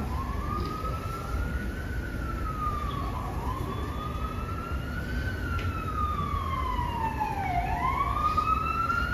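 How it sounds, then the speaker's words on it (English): Emergency vehicle sirens in New York City wail with rising and falling sweeps, sustained and fairly distant over steady traffic rumble, with no talking. "even if we're hearing the sirens of New York City"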